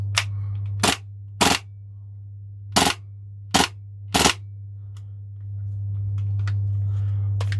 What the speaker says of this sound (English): Just flick it to the full auto so you can see that running.